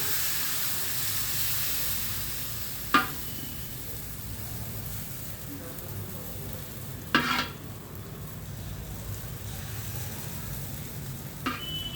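Dosa batter made from mixed grains fries on a hot pan with a steady, close sizzle and hiss, broken by a few sharp scraping stirs around three, seven and eleven seconds.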